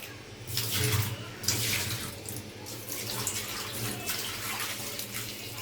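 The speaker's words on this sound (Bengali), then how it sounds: "আর এখানে মাংসগুলো সুন্দর করে ধুয়ে নিছি, আরেকটা ধুয়ে নেই।" Chicken meat being washed under a running tap, a steady close rush of water with splashing as the pieces are handled, no speech.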